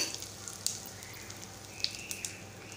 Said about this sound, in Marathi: आता तेलात मी हिंग घालत आहे